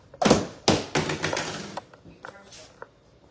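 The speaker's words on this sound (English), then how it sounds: "You drop power packs." A phone battery pack drops onto a surface with a couple of loud, close thuds and knocks, followed by smaller taps and rattles as it settles.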